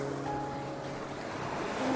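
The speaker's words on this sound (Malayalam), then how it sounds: "so this is lagoon beach" Lagoon beach waves on Agatti Island, Lakshadweep, a steady low wash of surf, faint and continuous throughout with no voices.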